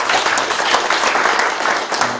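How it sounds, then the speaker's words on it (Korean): Audience at a town-hall style meeting with the city mayor in Seolseong-myeon claps steadily together, a dense, even wash of applause that holds for a couple of seconds without pause. "그럼 박수 한번 쳐주세요"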